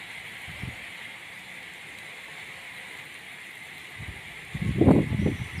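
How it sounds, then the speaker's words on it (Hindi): Heavy rain falls outdoors at a roadside stop, making a steady, even hiss throughout. A louder, rumbling burst rises briefly near the end. "ये देखें, काफ़ी तेज़ हो गई है बारिश।"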